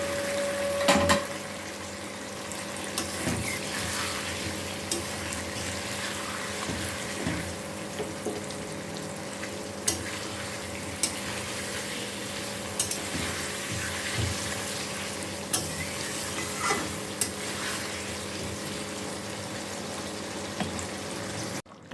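Potatoes fry with spices in a pan, a steady close sizzle and hiss, with occasional light clicks and scrapes as they are stirred. No one speaks.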